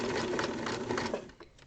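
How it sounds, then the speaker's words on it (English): A sewing machine runs steadily while stitching a buttonhole, a fast rhythmic whirring clatter that slows and stops near the end. "So just do a few stitches"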